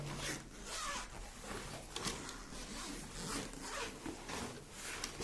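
A zipper slowly pulled open along the second gusset of a large three-gusset fabric suitcase, a continuous raspy zipping that runs steadily and close without talk.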